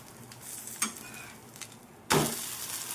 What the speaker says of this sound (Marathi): उलटून घेणार आहे डोशाला